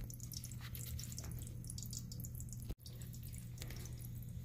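Weak water trickles into a toilet tank through a broken fill valve, a faint, continuous thin flow with light dripping and splashing over a low steady hum.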